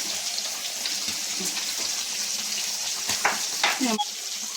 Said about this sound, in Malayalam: നമ്മുടെ മീൻ അവിടെ ഫ്രൈ ആകുന്നുണ്ട്